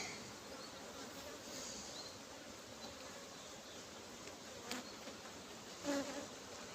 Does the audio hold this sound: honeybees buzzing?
yes